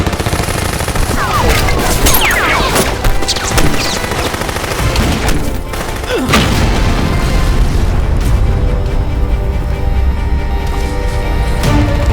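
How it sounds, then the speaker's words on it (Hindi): Gunfire from an encounter shootout in a Hindi action movie: loud repeated shots and booming bursts, some in rapid clusters, layered over a dense action soundtrack. "ये फायरिंग भी तुम्हारी तरफ से शुरू हुई है"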